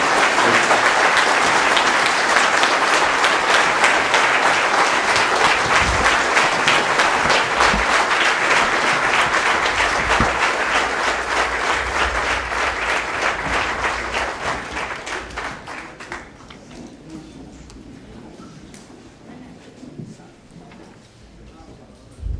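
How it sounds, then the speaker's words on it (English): A lecture-event audience in Dallas, welcoming Dr. Subramanian Swamy, breaks into sustained applause, a dense, loud clapping that holds steady for about fifteen seconds and then fades into scattered claps and room murmur. "So one round of applause, please, for that."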